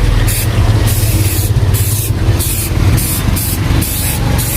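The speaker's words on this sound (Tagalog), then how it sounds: "So i-shake nyo lang muna bago siya i-spray." Balloon brightener sprayed from an aerosol can onto matte balloons, heard as a string of short, close hissing bursts separated by brief pauses, with no talking.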